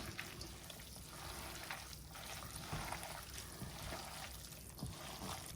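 A little water trickles and dribbles onto filo pastry for a hortopita, a soft wet patter that runs steadily for several seconds, fairly faint and close, with no talk over it.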